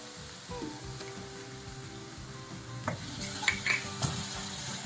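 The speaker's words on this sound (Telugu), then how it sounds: "దీన్ని కూడా పచ్చివాసన పోయేదాకా వేయించుకోవాలి" Chopped ginger frying in oil in a pan for Telugu ginger curry, a steady low sizzle with occasional spoon stirs and clinks toward the end, close by, without speech.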